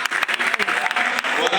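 Audience applause at a comedy show in Cotonou, a dense, steady burst of clapping from the crowd with a cheer or voice rising through it.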